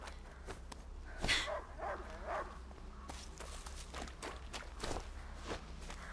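A dog barking in A Plague Tale: Innocence, a few short sharp barks and yelps mixed with footsteps and rustling in an outdoor game scene, no speech.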